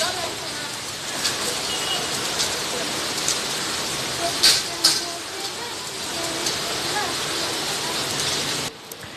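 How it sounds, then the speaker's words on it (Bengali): Rain pours outdoors onto an empty street in the evening as a steady, close hiss, with a few sharper splashes or knocks midway and a brief drop near the end. "আবার শুরু হয়ে গেছে বৃষ্টি।"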